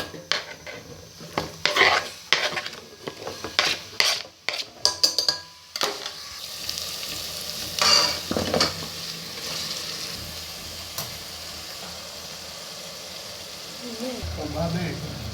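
Onions are stirred into a pan for a creamy potato gravy, with sharp clanks and scrapes of a utensil at first, then a softer steady sizzle, and a voice briefly speaking near the end.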